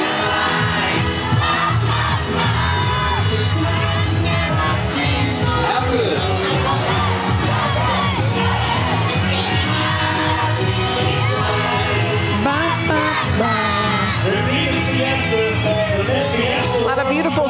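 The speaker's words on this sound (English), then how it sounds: "Listen to this crowd." A dense river parade crowd in San Antonio cheers, whoops and yells continuously and loudly, a thick wall of voices with no pause.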